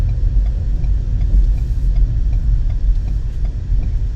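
A car engine idles low and steady with a faint road rumble, alone with no talk, parked in a lot during an evening of thunderstorms.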